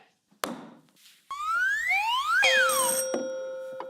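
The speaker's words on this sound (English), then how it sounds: "Fingers on buzzers." Electronic game-show buzzer effects: a short tap, then rising and sliding synthetic tones that end in a sustained bright buzz, loud and close.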